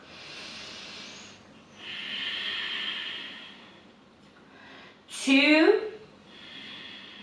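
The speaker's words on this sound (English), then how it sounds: "3 deep breaths here" Deep breathing during a yoga pose, with two long airy inhales and exhales in a quiet room and a short spoken count between them.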